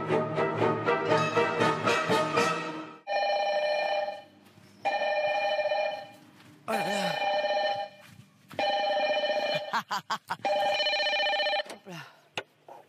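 Telephone bell ringing in repeated bursts separated by short gaps, fairly loud and close, with people talking over part of it and a voice answering in French at the end.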